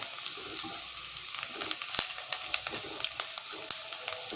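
Browned onions fry in hot oil with black cumin seeds (kalo jeera), a steady sizzle broken by scattered sharp pops and crackles, fairly close and alone without talk.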